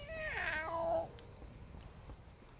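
A pet cat in World of Warcraft gives one faint, falling meow near the start, followed by quiet background hiss and a few soft clicks.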